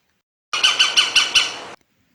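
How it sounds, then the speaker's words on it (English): A sparrow gives a loud, close, harsh chattering call, about six rapid squawking notes in a single burst, with silence before and after. "It's sparrow,"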